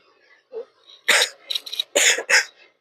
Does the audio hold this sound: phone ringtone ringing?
no